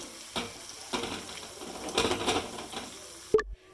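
Green chilies and curry leaves sautéing in a pan, with a soft sizzle and intermittent stirring scrapes, fairly quiet and close, ending with a sharp clatter.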